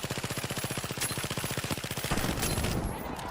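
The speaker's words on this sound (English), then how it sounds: "So I'll unload my P90." A P90 submachine gun fires in a video game, a rapid even burst of close shots lasting about two seconds, followed by a denser clatter of overlapping gunfire and noise.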